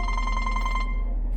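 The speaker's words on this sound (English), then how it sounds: "If you guys could hear my phone ringing, I apologize." A telephone ringing close and loud with a bright, buzzing bell tone. One ring sounds for most of a second and then cuts off, with a low hum underneath.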